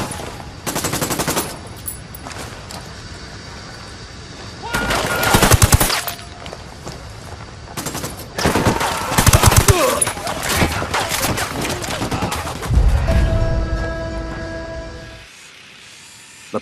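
Bursts of automatic rifle and machine-gun fire in a Ghost Recon Wildlands cutscene, loud and close, coming in clustered volleys with short pauses between them, mixed with brief voices and effects before the sound falls silent at the end.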